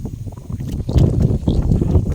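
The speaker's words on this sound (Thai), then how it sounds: "แต่ว่าลมแรงมากเลย" Strong wind buffets the microphone outdoors at a shrine with water fountains, a steady rough roar with gusty surges and no speech.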